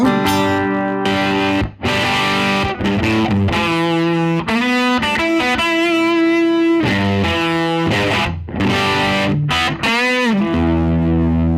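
Electric guitar through a Randy Rhoads distortion pedal playing a continuous, gritty lead line with sustained bent notes, loud and dense throughout.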